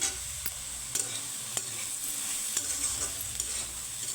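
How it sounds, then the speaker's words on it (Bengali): Soya chunks sizzle steadily in a pan, close and constant, while a spatula stirs them with a few crisp taps against the pan at regular intervals. "আমি সয়াটাকে ভেজে নেব"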